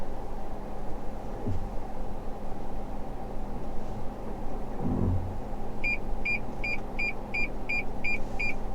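A steady series of short, evenly spaced electronic collision-warning beeps sounds over the low rumble of a 2021 Toyota Yaris Cross Hybrid's interior while driving.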